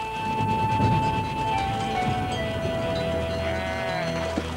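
Goats bleating in a wavering drawn-out call, heard over a steady background drone with a soft tone and light noise throughout.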